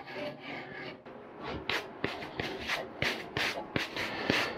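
A fine-sided rasp scrapes along a wooden axe handle in steady, repeated strokes, each a crisp close rub, with no talking.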